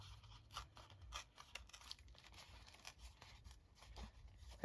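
Wet watercolour paper torn by hand in a quiet room, several short rough ripping bursts spread across the clip, soft and close with no one speaking.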